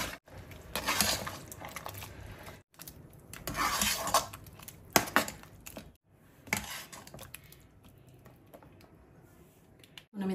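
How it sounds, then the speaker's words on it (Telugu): A spoon scrapes and clinks against a metal pot while gongura mutton curry is stirred, giving irregular bursts of stirring and scraping broken by brief pauses. "కర్రీ మొత్తం ఒకసారి కలుపుకుందాము"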